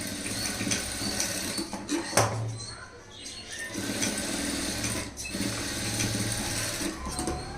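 Sewing machine running a straight seam up a high-neck blouse, close and steady with a mechanical whir and brief dips, continuing throughout with no voices.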